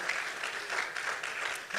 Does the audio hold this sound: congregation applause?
yes